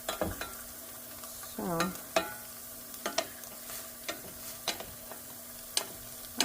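A burrito sizzles in a pan with melting, crisping cheese, a soft background fry punctuated by sharp ticks and scraping taps, with one short spoken word early on.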